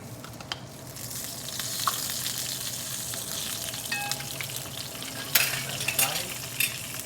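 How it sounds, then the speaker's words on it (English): Chili peppers, spices and ginger garlic paste fry in a hot wok, a dense steady sizzle with scraping strokes of stirring and a few sharper clinks, close and unbroken by speech. "So I'm gonna keep stirring. I don't want to burn my spices."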